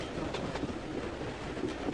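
A train rolls along the rails toward Dover with a steady, fairly quiet rumble and faint rhythmic clatter, heard alone without voices.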